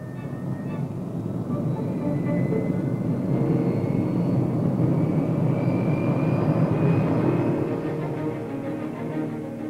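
A steady, loud roar of jet aircraft engines with turbocompressors lasting throughout, with faint whining tones rising above the broad rumble.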